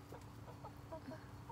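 A rooster on a homestead makes a few soft, scattered clucks, faint and somewhat distant against low background noise.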